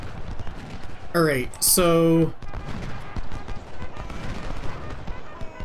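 Musket volleys from the Civil War strategy game Ultimate General: Civil War crackle in a dense burst of gunfire, loud and close, with a voice speaking briefly before and after it.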